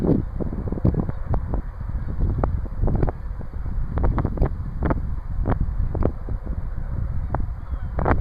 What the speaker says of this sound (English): big old flock of geese just took off one of the ponds